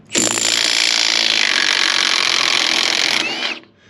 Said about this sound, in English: So this lug nut has not been off, so let's take it off.